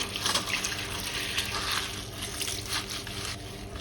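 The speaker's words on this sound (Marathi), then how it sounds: "त्याच्यावर स्वच्छ पाणी घालायचे" Clean water pours and splashes steadily over horse gram in a strainer, close and continuous, with small bursts of spattering throughout.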